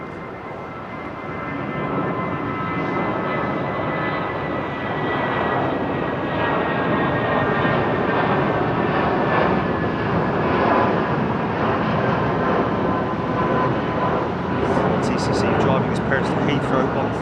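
A Boeing 787 Dreamliner taking off from London Heathrow, its engine roar swelling and holding loud and steady for the whole stretch, with people talking nearby.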